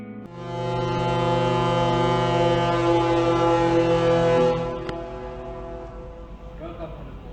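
Horn of the Pelni passenger ship KM Rinjani blasting one long, loud, deep tone for about four seconds, then cutting off and leaving faint background noise.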